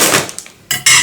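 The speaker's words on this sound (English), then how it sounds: "Just using the knife to put it open." A knife slits open a plastic package of berry granola: bursts of crinkly, scraping rustle, a quieter gap, then two louder tearing surges close by.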